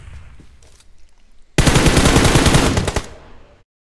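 Gunfire in PUBG Mobile, with a quieter lead-in, then a loud, rapid automatic burst of closely spaced shots lasting over a second before it cuts off.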